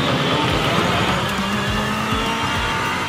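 A toy Chinese three-wheeler rickshaw runs its small motor with a loud, steady, continuous whirring buzz and faint rhythmic rattles throughout, with no other sound over it.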